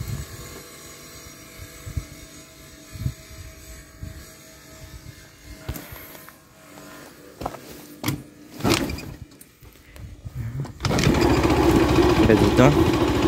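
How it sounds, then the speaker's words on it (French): A vehicle engine is cranked in very cold weather, catching on the second attempt from cold, with scattered clicks and thumps before the engine bursts into a loud steady run near the end, a voice talking over parts of it. "Je pensais pas qu'il allait démarrer au deuxième coup"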